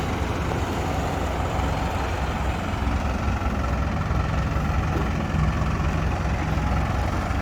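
A four-cylinder engine idles with a steady, low rumble that goes on without a break, even and unchanging throughout, with no voices over it.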